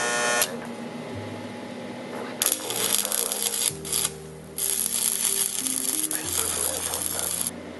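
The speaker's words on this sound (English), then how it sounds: "I'm only going to be doing one small weld at the top" Welding of steel motor mount plates onto a GoPed go-kart frame produces loud, steady broadband crackling and hissing in long bursts, with brief pauses between passes and no talking.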